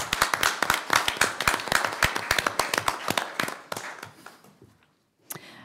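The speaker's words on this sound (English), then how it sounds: "If we can give him another round of applause for being here tonight." A smaller crowd at a county council meeting gives a round of applause for a veteran guest, with distinct individual claps that thin out and fade to near silence, followed by one last isolated clap.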